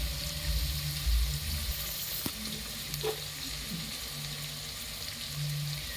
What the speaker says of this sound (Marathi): आता हा कांदा मी छान परतवून घेते